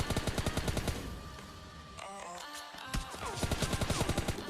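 Rapid bursts of gunfire from a shooting video game, loud and close, with a brief lull in the middle before the shots resume.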